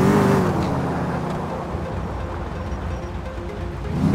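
A Dodge Challenger bait car in GTA IV driving along at steady speed, its engine droning continuously and loudly with road noise and no voices.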